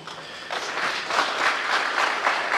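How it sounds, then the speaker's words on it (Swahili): An audience at a public gathering stands and applauds financial institutions' representatives, dense crowd clapping rising after a quiet start and holding steady and loud. "Simameni tuwapige makofi"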